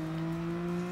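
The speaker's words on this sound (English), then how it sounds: "just the engine sound, obviously it's a hybrid supercar kind of technology with just a 3-liter engine" Mitsubishi XR PHEV Evolution VGT hybrid supercar with a 3-liter engine, from the Gran Turismo Sport racing game. It gives off a steady, loud engine drone with a strong low hum that holds at an even pitch.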